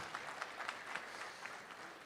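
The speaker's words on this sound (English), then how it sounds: "I think he deserves a big round of applause." A crowd claps at a community meet-and-greet with a visiting minister in the Bay Area, the applause steady and fairly faint, with scattered individual claps standing out.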